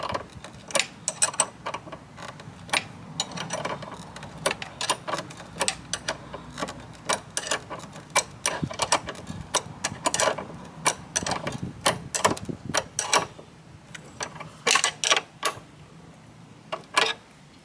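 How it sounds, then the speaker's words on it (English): A ratchet spanner tightening bolts while fitting a Tegiwa torque mount on an EP3 Honda Civic Type R, close, sharp repeated clicking in quick bursts with short pauses between strokes. "We've got a ratchet spanner."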